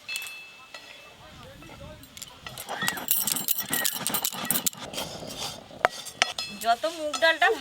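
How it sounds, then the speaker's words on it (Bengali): A spoon scrapes and clinks against a pan as mung dal is dry-fried and stirred for Bengali pitha, with irregular metallic clatter while people talk over it. "ডালটা ভালো করে ভাজতে হবে, যদি পুড়ে যায় কিন্তু পিঠে তিতো হয়ে যাবে।"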